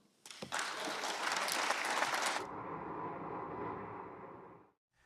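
Applause breaks out in the Senate chamber after a narrow confirmation vote on a Pentagon chief, decided by a vice-presidential tie-breaker. It begins as a loud, dense burst of clapping, then settles into steadier, duller clapping before stopping abruptly.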